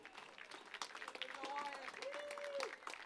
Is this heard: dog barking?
no